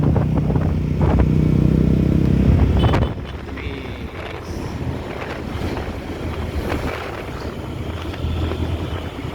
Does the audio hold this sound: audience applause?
no